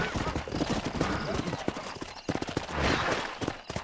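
Horse hooves clip-clop in a farm-themed video game, a steady run of hoofbeats sitting under a voice talking throughout, with a brief louder swell near the end.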